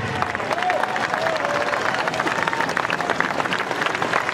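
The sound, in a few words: applause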